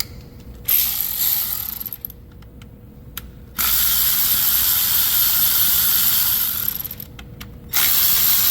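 A ratchet clicking rapidly in bursts with short pauses between them, close and loud, while bolts are loosened to remove an engine valve cover.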